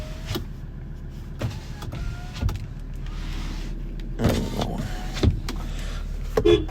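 Electric windows of a 2019 Ford Ranger 3.2 TDCi Wildtrak running up and down, a steady motor whine inside the cab broken by several clunks as each window stops.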